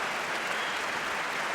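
An audience at a live debate between Christopher Hitchens and Dinesh D'Souza claps in a dense, steady burst of applause filling the hall, with no voices heard.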